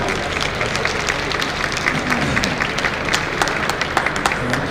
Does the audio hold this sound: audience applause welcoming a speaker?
yes